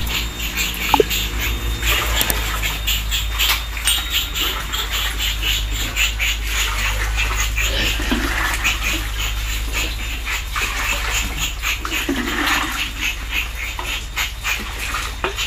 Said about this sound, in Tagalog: Ganyan siya guys, kalakas humigop ng tubig.